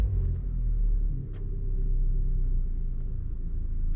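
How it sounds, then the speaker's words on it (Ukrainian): A Kia Sportage engine runs as a low, steady rumble from close by, dipping briefly and then swelling a little in a mild, short rise in revs, with no talking. "Дайте мені коротко газу, але не так сильно."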